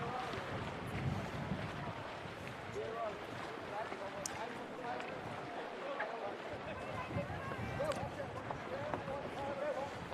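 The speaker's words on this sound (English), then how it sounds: "Oh, it is windy out there." Wind gusts buffet the microphone in a steady rushing roar at an outdoor canoe polo championship, with broadband noise throughout and faint distant sounds underneath.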